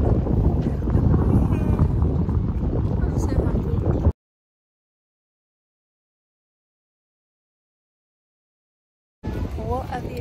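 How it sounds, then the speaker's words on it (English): Wind at Lake Como buffets the microphone with a loud, rough rumble for about four seconds. It cuts to silence, then the gusting returns near the end. "Oh my god, the wind."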